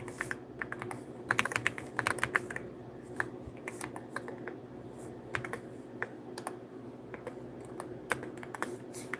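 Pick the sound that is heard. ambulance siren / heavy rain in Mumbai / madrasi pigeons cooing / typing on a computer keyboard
typing on a computer keyboard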